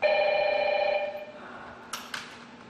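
A telephone bell rings loudly in steady repeated bursts for about a second, then stops, followed by quiet room tone and two brief faint clicks, as a call is placed to a police station in China.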